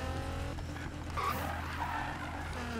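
A car spins and skids in the Need for Speed racing game, with squealing tires and a revving engine sliding through a sustained drift, close and loud.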